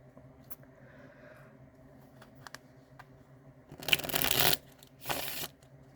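Tarot cards being shuffled and pulled, with a couple of short, close papery riffle bursts near the end after quiet handling.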